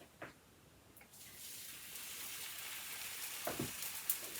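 A thin sourdough tortilla goes into a hot skillet and cooks with a steady, soft sizzle. A few faint clicks come through near the start and close to the end, and no one is talking.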